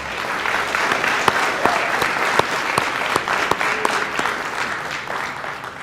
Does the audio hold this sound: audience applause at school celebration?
yes